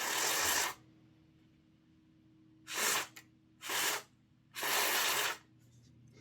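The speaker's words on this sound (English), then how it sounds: "we'll give it a good blast out with some contact cleaner" Contact cleaner sprayed into the motor of a Hornby R868 S.R. M7 0-4-4 model locomotive gives four sharp, close hissing blasts, each under a second long, separated by quiet gaps.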